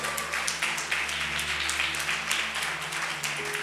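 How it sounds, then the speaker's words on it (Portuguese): A church congregation claps loudly and continuously in a dense, even patter of many hands, with a sustained musical drone underneath. "Vamos aplaudir bem forte, Senhor."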